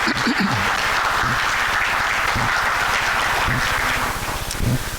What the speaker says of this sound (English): Could we give all of our scholarship recipients and donors another round of applause?